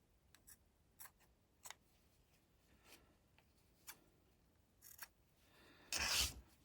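Scissors cut through fabric for a quilt block: a series of faint, quiet snips spaced out, ending with one louder, brief rustle of cloth.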